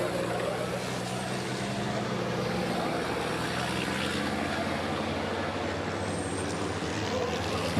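A racing truck in the FIA European Truck Racing Championship qualifying at Le Mans powers down the straight, a loud, steady engine roar that holds throughout with a faint rising whine.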